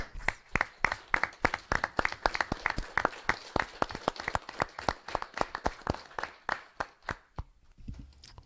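At a city council meeting, the audience applauds first responders, police officers and the fire department, with a modest group giving sharp, distinct claps that stay close and quickly thin out to a few scattered hands before stopping.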